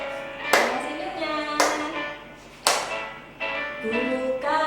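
Children in a Sunday school class clap hands along to a song, four loud claps spaced about a second apart, with sung voices ringing behind them.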